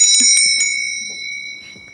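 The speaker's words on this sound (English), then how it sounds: "I can do Minor Illusion to make it like a bell sound" A bell conjured with a Minor Illusion spell in a tabletop role-playing game rings in several quick bright strikes, then a sustained shimmering tone that slowly fades, close and alone.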